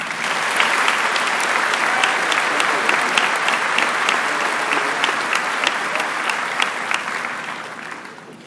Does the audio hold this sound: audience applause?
yes